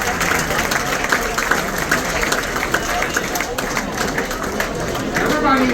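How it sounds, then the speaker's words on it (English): An audience applauding as ambassadors come up on stage during a sea day aboard a ship, steady dense clapping throughout with crowd voices underneath. "let's give a round of applause for them as they come up to the stage with me."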